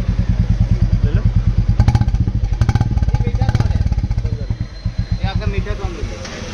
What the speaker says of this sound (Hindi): ये तो प्रीमियम साउंड है ये वाला एग्जॉस्ट क्लासिक का इंदौरी।